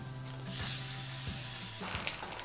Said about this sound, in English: We got a nice sear on our knuckle.